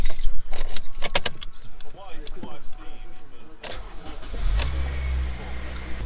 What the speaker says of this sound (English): now we're going to do the first start of the car